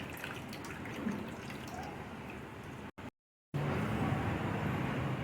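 Watermelon juice strained through a sieve, with a steady, noisy trickle of dripping liquid that breaks off for a brief silent moment partway through.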